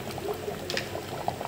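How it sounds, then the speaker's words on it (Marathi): Sambar is poured into a pan of cooked spicy tikhat jalebi, a brief close bubbling, liquid gurgle with small splashes. "आता आपण छान सांबार टाकूया"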